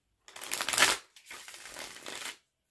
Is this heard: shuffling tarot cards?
yes